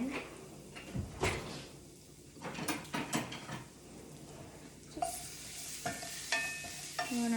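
Garlic cooking fast in a hot pan for steak tacos, with a soft sizzle under repeated scraping and stirring strokes, some clinks of a utensil against the pan, and brighter, harder clatter near the end.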